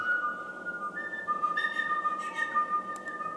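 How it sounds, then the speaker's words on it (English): Prehistoric flute some 40,000 years old, played without a mouthpiece, giving thin, breathy whistle-like tones that wander and rise in short sustained notes over a steady airy background. "But even without a mouthpiece, researchers managed to play this flute,"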